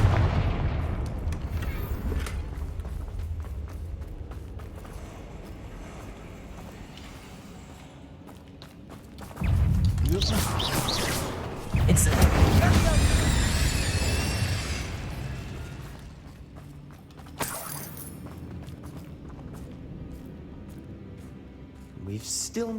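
Confringo spell blasts in Hogwarts Legacy burst out as several booming, crackling impacts, with two heavy bursts mid-sequence and a sharp one later, over ambient game sound.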